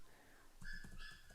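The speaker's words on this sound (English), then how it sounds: "Sorry if you guys can hear my dog in the back too." A dog whines and whimpers faintly in the background indoors, a thin high-pitched cry rising after a moment of near quiet.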